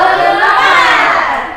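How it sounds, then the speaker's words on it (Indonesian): Classroom of students performing a rhythmic tepuk semangat clapping chant, a loud, busy wash of many young voices shouting together with hand claps blended in. "Ya, Miss contohin, tepuk semangat."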